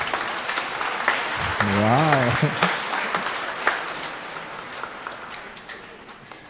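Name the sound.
church congregation applauding loudly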